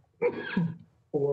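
A single sharp sneeze bursts out during a Historic Zoning Commission meeting, lasting about half a second, close and fairly loud, before a voice resumes speaking.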